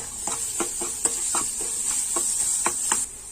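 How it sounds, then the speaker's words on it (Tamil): Garlic, black pepper, cumin and asafoetida splutter in hot oil for a tomato pepper rasam, a steady close hiss broken by about ten rhythmic scrapes of a spoon stirring. "நல்லா பொரிஞ்சு வரட்டும்"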